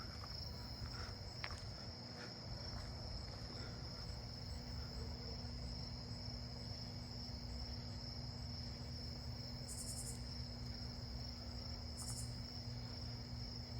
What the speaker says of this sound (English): Oh, I hear a round-tip conehead down this way too.